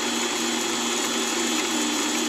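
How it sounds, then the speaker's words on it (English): A mini-lathe drilling stainless steel with a hand-ground 0.5 mm drill bit gives a steady, loud mechanical whine and hum that holds unchanged throughout, close by and with no voices. "I set out to show that my hand ground half millimeter drill bit would cut stainless steel."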